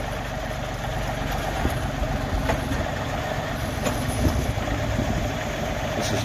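A 2023 BESTHAND BH6600 backhoe idles with a steady, close engine rumble while its outriggers deploy, with faint mechanical knocks and hydraulic strain over the continuous drone and no talking.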